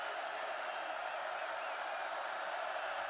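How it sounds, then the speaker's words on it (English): Stadium crowd at an Oklahoma college football home game against Florida A&M, a sustained dense roar with scattered whoops and clapping, holding at an even level throughout. "Crowd roaring."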